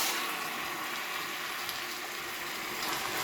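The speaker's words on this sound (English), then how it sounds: "that's nicely sizzling away" Lamb pieces sizzle in olive oil in a hot pan, a steady, close crackling fry that holds evenly throughout with no talking.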